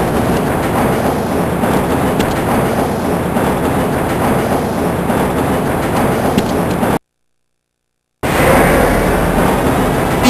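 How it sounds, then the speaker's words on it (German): Black Mesa subway train in Half-Life rumbles steadily along its track, a loud, dense roar with clattering rail noise that cuts out abruptly for about a second, then resumes. "Dieser Zug kommt von den Ruheräumen in Level 3 und fährt zu den Testlabors und den Kontrollräumen in Sektor C"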